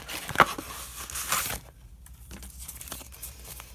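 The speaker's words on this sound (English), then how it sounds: "So this is my subscriptions envelope." A paper money envelope is handled close up, giving soft crinkling and rustling with a sharper crackle near the start, then quieter shuffling.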